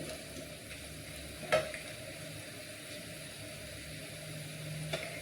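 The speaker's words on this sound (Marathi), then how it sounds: "तुम्ही बघू शकता आपला कांदा इथे चांगला परतला आहे।" Onion sautéing in a pan for a quick potato bhaji, a steady low sizzle with a couple of sharp spoon scrapes against the pan, no voices.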